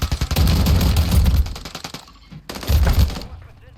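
Rapid shotgun fire from a Riveter in Call of Duty: Modern Warfare 3 Warzone, a loud, dense burst of repeated blasts that stops briefly and then resumes in a second short burst.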